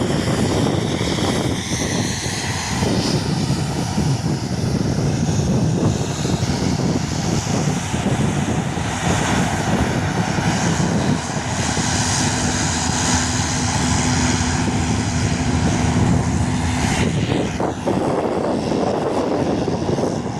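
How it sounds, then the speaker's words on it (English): A Cessna 150 light aircraft going around for a second landing attempt on a windy day at an airfield, its steady propeller drone loud and continuous over strong wind noise throughout. "Cessna 150 goes around for a second attempt."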